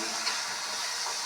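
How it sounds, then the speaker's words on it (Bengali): Tomato, cashew, black pepper and spice paste for a boal fish curry is being sautéed in a pan, giving a steady, moderately loud sizzle and fry hiss that stays even throughout, with no voices. "আর সেটা এখন কষানো হচ্ছে।"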